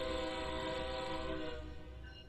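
A locomotive horn in the Train Sim World 3 game, the same sample as the older TS Classic version, blares as a steady, loud multi-tone chord for about one and a half seconds and then fades away.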